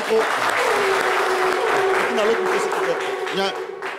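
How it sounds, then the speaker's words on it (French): Loud, dense audience applause for a contestant on a French-language TV show, continuous throughout with voices and cheers mixed into the clapping. "On va l'applaudir bien fort"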